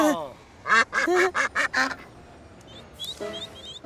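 Cartoon ducks quack in a quick burst of several loud calls at a duck pond in a Thomas & Friends episode, with a character's voice and a short squeaky sound around them.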